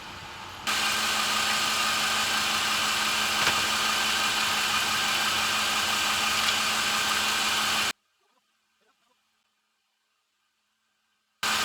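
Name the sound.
Lexus GX 460 engine idling during transmission fluid change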